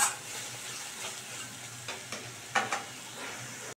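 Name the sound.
spice paste frying while stirred in pan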